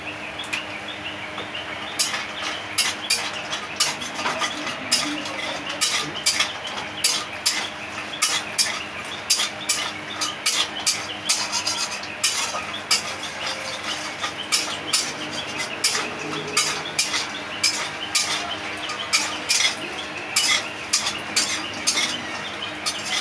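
Bori, small Bengali lentil dumplings, crackle and sizzle steadily in hot oil as they fry for a fish curry, with scattered sharp pops and light utensil clinks throughout, close by and with no talking.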